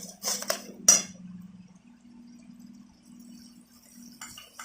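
A metal spatula clinks and scrapes a few times against a cooking pot while spice masala is fried, then a low, quiet sizzle continues with a few faint clinks near the end.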